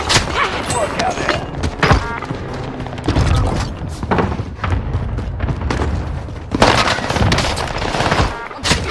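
Video game gunfire from an NZ41 rifle in a multiplayer match, loud rapid bursts and booming shots crowding the whole stretch, close and continuous with no pauses.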